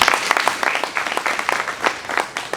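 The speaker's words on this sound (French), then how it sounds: "je pense que ça c'est un mérite et qu'ils méritent des applaudissements" Brief applause from a panel audience, a patchy burst of clapping with uneven, scattered hand claps filling the short stretch.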